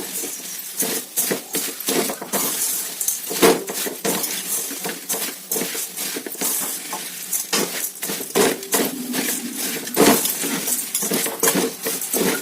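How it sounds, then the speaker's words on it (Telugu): Poha (flattened rice) lightly frying in a pan, with a soft sizzle under steady scraping and clinking as a metal spoon stirs it, close up, no talk. "ఇప్పుడు అటుకులు పోసేసుకుందాం. ఇవి కూడా కొంచెం లైట్గా వేపేసుకుందామండి"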